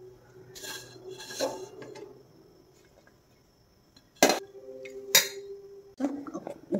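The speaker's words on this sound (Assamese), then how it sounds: "থাল এখনতে উঠাই লৈছোঁ" Steamed ladoo being moved onto a metal plate, giving a few light metallic clinks and scrapes with quiet gaps between them, close by and with no talk.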